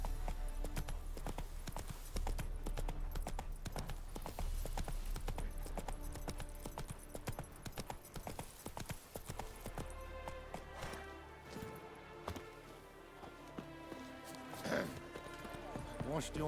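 Hooves of the horse Roach clip-clop in a steady trotting rhythm through Witcher 3 video game ambience, fairly close and continuous, while someone speaks over the hoofbeats.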